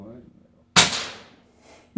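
Single sharp crack of a new airgun firing at a small bird target outdoors, loud and close with a brief decaying tail, followed by a short knock; a voice talks softly just before the shot.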